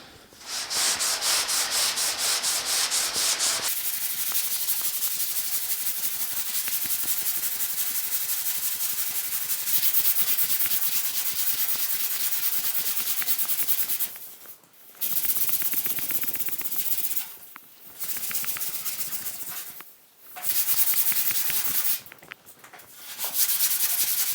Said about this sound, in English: I was just pulled up too far, so I'll sand this out as well